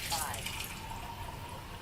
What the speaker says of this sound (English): I'll fill up the tap water directly out of the tap.